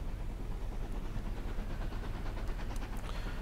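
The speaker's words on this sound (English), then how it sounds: "Here's an Eastleigh train, he's just coming from Eastleigh." A train pulls into a station from Eastleigh in the rail-management game Transport Fever, a steady, even rumble of wheels and carriages with faint clicks on top. It holds at constant loudness and plays alone, with no voices.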